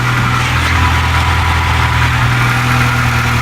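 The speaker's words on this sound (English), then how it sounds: "Let her idle a little bit." A 1996 Acura Integra engine idles just after a head gasket replacement, producing a loud, steady, close hum with a constant low drone throughout and no talking.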